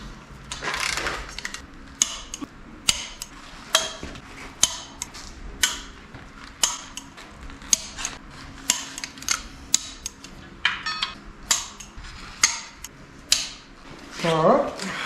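Oil pan bolts on a junkyard 5.3 engine being tightened to torque, a string of sharp ratcheting clicks at an irregular beat, close and clear, with talking in between.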